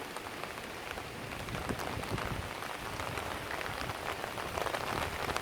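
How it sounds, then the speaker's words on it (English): Heavy rain pours steadily onto surfaces at Vasai Fort, a dense, even hiss with scattered drips and no voices. "it's raining quite heavily right now"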